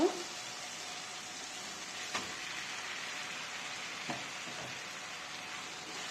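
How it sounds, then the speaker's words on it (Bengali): Chicken meat goes into a pan of frying spice paste, setting off a steady bright sizzle that holds evenly throughout, broken by a couple of soft knocks. "মশলা হয়ে গিয়েছে, এখন দিয়ে দিব মাংস।"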